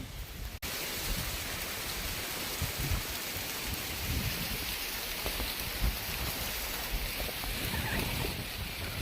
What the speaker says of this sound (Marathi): पाऊस काही जायचं नाव घेत नाही